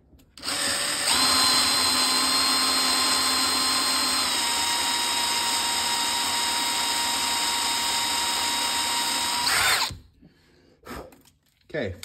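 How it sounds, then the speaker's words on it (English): A power drill whines steadily and loudly for about nine seconds while drilling partway into a broken screw in metal, pitch dipping slightly partway through, then cuts out, leaving quiet shuffling sounds. "I'm not gonna drill all the way through."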